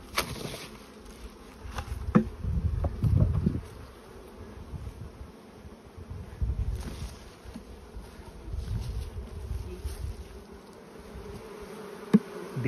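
Honey bees buzz over hive frames during an inspection, a continuous low drone with swelling, fluctuating intensity and occasional close fly-bys, with light wind noise and no talking.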